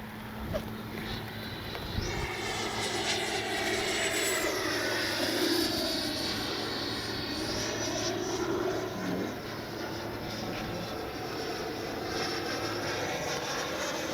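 A steady, loud jet-like whine with a shifting pitch sweeps across the whole stretch as an FMS Avanti S 90mm RC model jet flies overhead outdoors.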